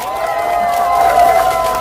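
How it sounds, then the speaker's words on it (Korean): A large crowd at a political campaign speech in Cheongju's Yukgeori Market roars and cheers in a steady, loud wash of voices that swells slightly near the end, with a few voices standing out. "김민석에게 다시 박수 한번 부탁드립니다."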